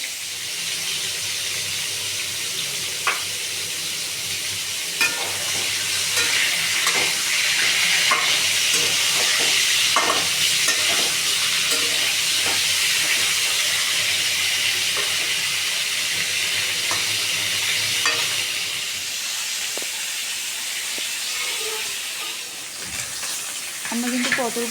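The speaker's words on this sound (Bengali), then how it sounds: "পটলগুলোকে একটু সময় নিয়ে লাল করে ভেজে নিব।" Pointed gourd (potol) pieces fry in oil in a pan with a steady, close sizzle and crackle throughout, plus occasional stirring scrapes and clinks.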